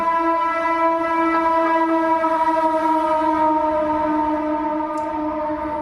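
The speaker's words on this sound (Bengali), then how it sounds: "এই ওদিকে ট্রেন যাচ্ছে হুইসাল দিতে দিতে" A train passes close by while sounding its horn in a long, steady, loud tonal blast, with outdoor traffic rumbling underneath.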